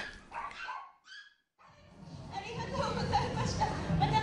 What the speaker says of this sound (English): there are lots of dogs, about a dozen or so, up on a stage